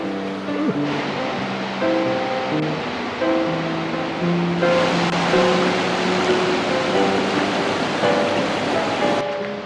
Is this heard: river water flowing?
yes